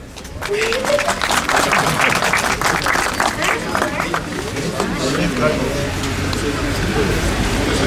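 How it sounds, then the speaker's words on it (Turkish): Applause from a crowd at a building-opening ceremony in Turkey, dense clapping that swells quickly and holds steady, with a murmur of voices mixed in. "Alkışlarınızla lütfen."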